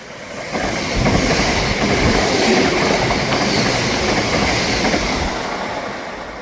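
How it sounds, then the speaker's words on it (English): ScotRail empty coaching stock train passing through Broughty Ferry station, a steady close rumble of wheels and clickety-clack rising quickly and holding for several seconds before easing off, no voices. "Passing through now is a Scotrail service on in ECS."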